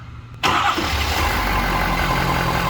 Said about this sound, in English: we are going to start the engine up